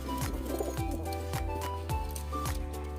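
A Giribaz pigeon coos in a steady rhythm, low throaty calls repeating about every half second, close and clear against a busy background.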